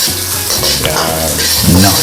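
Garlic sautéing in a hot pan for a shrimp and broccoli dish, a steady close sizzle with stirring scrapes and clinks of the utensil throughout, no voices.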